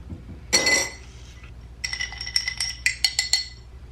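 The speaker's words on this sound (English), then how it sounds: "I'm gonna get some ice and stir it all together." Ice stirred in a martini glass: one sharp clattering drop of cubes, then a run of quick, bright glassy clinks and taps as the ice swirls, close and clear.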